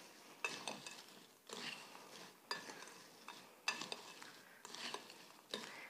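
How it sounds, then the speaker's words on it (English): Halloween snack mix with M&Ms being stirred in a bowl, a series of about six rustling, rattling bursts at a steady rhythm, close and fairly quiet, with no talking. "then you just mix it all together"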